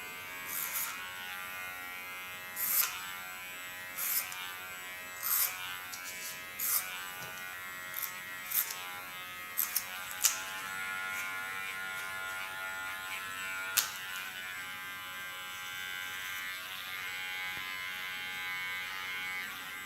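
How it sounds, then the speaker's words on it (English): An electric hair clipper buzzing steadily close by while cutting short hair into an undercut, with a continuous high hum broken by brief louder bursts as it meets the hair. "I think a comb is maybe more important than the clipper you work with"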